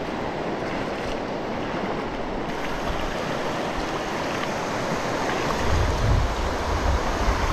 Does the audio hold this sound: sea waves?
yes